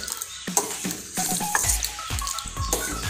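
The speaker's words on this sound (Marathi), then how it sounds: "मिक्स करून घ्यायचं, असं हलवत राहायचं।" A spoon works through a thick sabudana papad mixture cooking in a pan, with repeated irregular scraping and knocking strokes over a faint bubbling sizzle, close up and with no talking.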